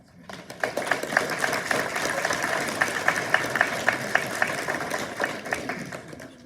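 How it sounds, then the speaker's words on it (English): Moderate applause rises at a nursing pinning ceremony, clapping that swells after a quiet start with a few sharper individual claps standing out, fairly steady across the stretch with faint voices mixed in. "Give yourself some applause."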